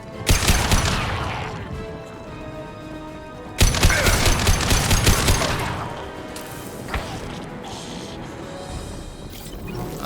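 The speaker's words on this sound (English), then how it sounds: "He's shooting." Gunfire and impacts in the sci-fi shooter Mass Effect 2, with two loud bursts of rapid shots and crashing hits separated by a quieter stretch of mechanical ambience and scattered thuds.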